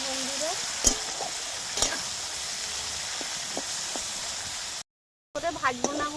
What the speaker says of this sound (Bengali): আমি লবণ হলুদ মাখানো চিংড়িগুলো এই গরম তেলের মধ্যে দিয়ে দিচ্ছি ভাজার জন্য